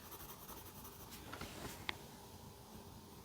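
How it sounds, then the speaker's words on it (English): A pencil draws on paper, making a quiet, continuous scratching with soft strokes and a single small tap partway through, close and alone without talk. "don't forget to turn your pencil."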